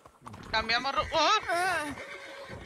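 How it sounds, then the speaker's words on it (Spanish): A spooked horse in Red Dead Redemption role-play lets out a loud, close, quavering whinny that rises and falls for over a second, with hoof clops underneath, and a voice is heard as well. "Sí, se ha alocado el caballo"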